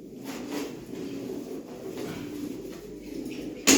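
Pigeons, including a pair of grey speckled tumbling game birds, cooing in a steady low murmur throughout, near and moderately loud, ending with a sudden sharp knock or clatter.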